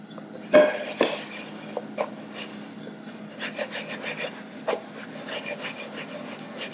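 Soy curls get tossed in fine cornmeal in a bowl, producing soft gritty rubbing and rasping with a few knocks of a utensil, then a run of rhythmic scraping strokes.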